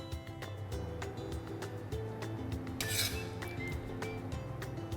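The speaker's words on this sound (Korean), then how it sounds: "이 맛있게 만들어진 카레 소스를 예쁜 그릇에 담아볼까요?" Tomato curry sauce scooped from a pot into a bowl, with soft scraping and light clinks of a utensil against cookware, close and moderately quiet over a steady kitchen background.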